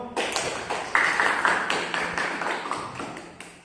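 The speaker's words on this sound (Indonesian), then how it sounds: "Tepuk tangan buat kita semua." Applause from a class of students after a group discussion session, a brief burst of clapping that swells and then gradually fades away over a few seconds, with no talking.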